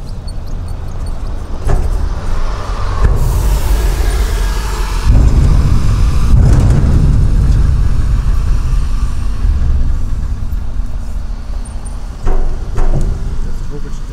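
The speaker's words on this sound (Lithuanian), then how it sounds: "Daro autobusas." A city bus passes on a street, its loud engine rumble and road roar swelling and holding for several seconds before easing, with a voice speaking over the traffic.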